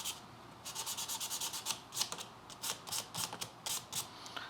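Hand sanding on metal with sandpaper gives quick rhythmic rasping strokes, about a dozen in quick succession, then a pause and another burst of strokes, close and crisp.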